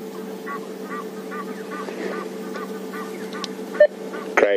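An Egyptian goose calls in alarm in the African bush, a run of repeated honks at a steady pace, somewhat distant over a steady low drone, ending with a couple of louder, closer bursts.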